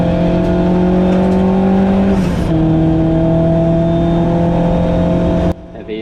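Race car engine in a BRSCC ClubSports race on a wet, drying Silverstone GP circuit, pulling hard under acceleration with a loud, steady harmonic drone, a brief gearshift dip midway, then cutting off abruptly near the end.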